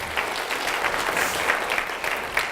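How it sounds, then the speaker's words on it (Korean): Church congregation applauding at a Friday night worship service, a steady wash of many hands clapping together throughout, moderately loud and continuous with no one speaking. "우리 하나님께 영광의 박수 올리겠습니다"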